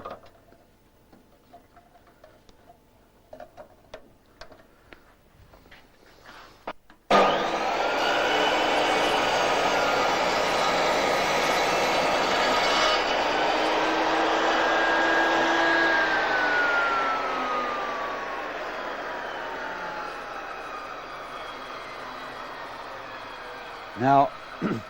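A table saw makes a thin shaving cut, its motor starting abruptly and holding a loud, steady whine with a broad hiss of the blade through wood, easing slightly near the end before a few closing knocks.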